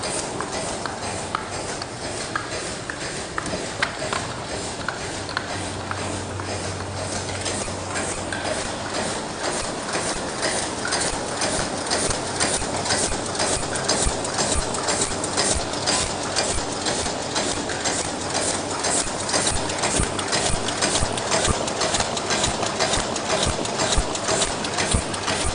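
A 2.5oz paper cup making machine runs nonstop, with rapid, evenly spaced mechanical clacks and thumps over a constant industrial hum. The rhythm stays steady and moderately loud throughout.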